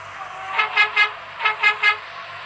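Car horns honk in a holiday traffic jam, five short bursts in two clusters over a steady engine and road rumble, fairly close and with no talk.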